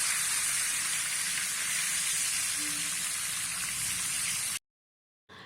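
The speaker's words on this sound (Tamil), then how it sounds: "மீனில் மிளகாத்தூள் உப்புத்தூள் சேர்த்து நல்லா பிசிறி எண்ணெயில் பொரித்து எடுத்தால் ரொம்ப டேஸ்ட்டாக இருக்கும்" Fish coated in chilli powder and salt frying in oil, a loud, steady, close hiss of sizzling that runs unbroken for several seconds, then cuts off abruptly, with a short burst afterwards.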